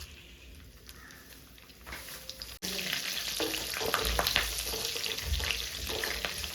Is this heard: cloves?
yes